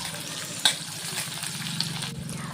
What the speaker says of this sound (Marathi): बारीक कापलेला कांदा आपल्याला त्यामध्ये घालायचा आहे आणि कांदा थोडा आपल्याला परतून घ्यायचा आहे